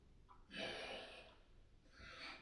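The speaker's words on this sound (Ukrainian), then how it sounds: "видих носом." A long, breathy exhalation through the nose during a breathing exercise, close and soft, with a brief intake before it and another airy breath at the end.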